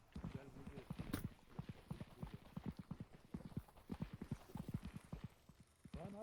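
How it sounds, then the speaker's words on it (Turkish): Footsteps sound from behind the player in the horror game Content Warning: a quick, steady patter of footfalls running the whole stretch, with faint voices underneath. "arkadan ayak sesi geliyor en arkadan."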